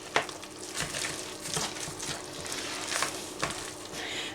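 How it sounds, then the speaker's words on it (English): Ingredients for a potato and carrot cake being stirred together in a bowl, a soft, steady, mushy scraping with a few sharper taps, close by and fairly quiet. "I'm going to mix everything in."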